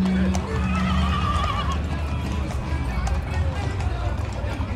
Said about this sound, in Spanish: ¡Fuck! El caballo.